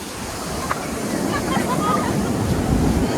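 Sea waves washing in with a broad, steady rush and roar, close and fairly loud, building slightly toward the end.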